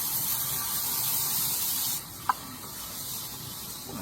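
Butter melting and sizzling in a pan for buttered garlic shrimp, a soft continuous hiss that drops in level midway, with a brief sharp tap of a utensil just after.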